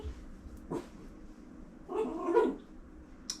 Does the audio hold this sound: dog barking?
yes